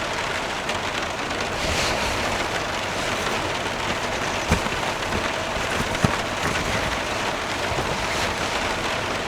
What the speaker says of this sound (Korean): 비가 제법 많이 와서 빗소리 듣는 게 너무 좋아요.